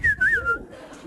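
A person whistles a few short, clear, wavering notes close by, the tones sliding up and down, followed by quieter background noise.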